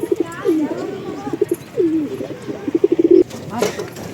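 Pigeons coo up close in a coop, with repeated throaty rolling coos and a quick run of pulsing notes, and a voice briefly over them.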